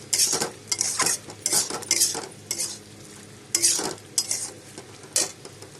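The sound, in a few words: stirring pointed gourd and potatoes with spices in pan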